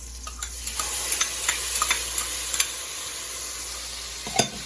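Bacon, chorizo and sofrito sizzle steadily in a pot while a spoon stirs them, with a series of light scrapes and clicks against the pot over a constant hiss, close up and with no talking.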